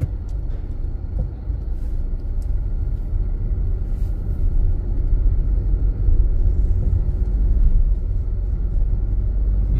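A car accelerating on a city street during a driving lesson: a steady, loud low engine and road rumble heard from inside the car, continuous throughout without voices.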